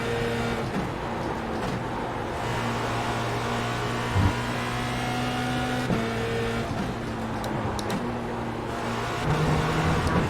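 A Formula Renault 2.0 race car engine in the iRacing sim drones at a steady pitch, shifting tone and dipping briefly on lift-offs, a continuous mechanical hum with no voices over it.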